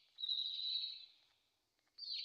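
A bird in the video game Garten of Banban gives two faint, drawn-out high chirps, the first lasting about a second, the second starting after a brief pause.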